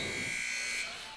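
A basketball game buzzer sounds at the end of the first period in a high-school matchup, a sustained electronic tone that holds for most of the moment and then cuts off, with faint crowd noise beneath.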